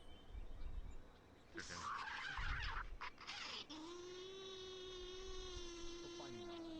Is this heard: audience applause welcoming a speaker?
no